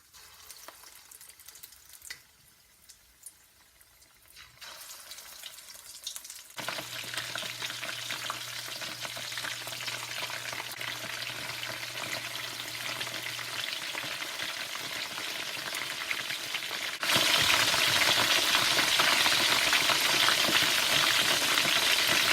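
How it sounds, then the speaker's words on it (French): Shrimp fry in hot oil with a steady crackling sizzle that starts quietly, swells after a few seconds and turns louder and denser near the end, with a low hum running through the middle. "Et maintenant on va le frire."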